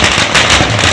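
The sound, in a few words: firecrackers bursting at a procession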